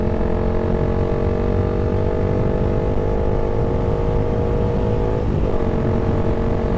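A Suzuki Gixxer 155 motorcycle engine pulls under load with a steady, loud drone whose pitch climbs as it revs, briefly dipping near the end as if shifting, heard up close with no talk.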